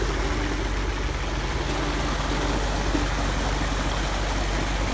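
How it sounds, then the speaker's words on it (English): A Caterpillar diesel genset powering a water pump runs at a steady idle, its low continuous engine hum mixed with a broadband rushing noise like flowing water. "the OSFlow pump ensures steady water flow and supported by a Caterpillar genset."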